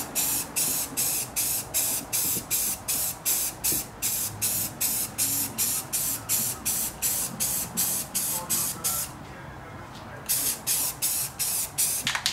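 A spray can paints a 1990 Mazda Miata trunk lid in a steady rhythm of short, loud hissing bursts about twice a second, close to the listener, with one brief pause before the spraying resumes.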